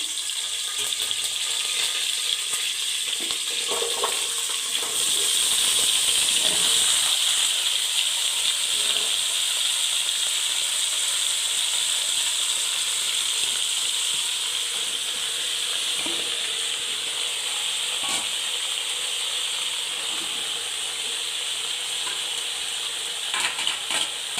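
Chopped onion and egg pieces go into a hot pan for sambar, raising a bright sustained sizzle with scattered stirring clatters and scrapes over a long, steady stretch.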